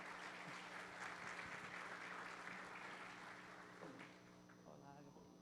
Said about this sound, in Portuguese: Uma salva de palmas para a professora Catiana.